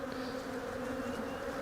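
Honey bees buzz steadily around an opened hive during an inspection, a continuous close, moderately loud drone with no talking over it.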